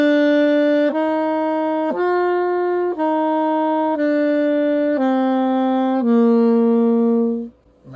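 A saxophone plays a slow stepwise sequence of about seven sustained notes, each held roughly a second with clean breaks between them, loud and close with no talking, the final note fading out.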